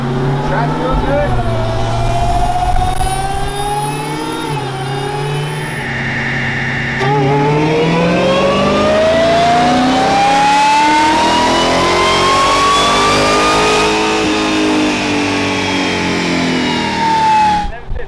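A Lamborghini engine at a church-lot car show climbs through a long rising pull, its loud, close tone sweeping steadily higher before easing off at the end. Voices talk over the engine.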